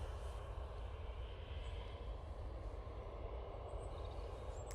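An easyJet airliner arriving from Naples at Manchester Airport gives off a steady, distant, low engine roar and rumble that holds evenly throughout, with no talking.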